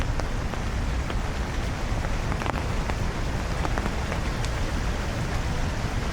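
Rain pattering on an umbrella on a nasty, wet day, a dense, steady hiss with scattered sharper drops close by, no voices.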